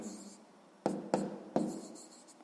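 Pen strokes on paper as a maths answer is written down, three quick scratchy bursts after a quiet start, close and alone.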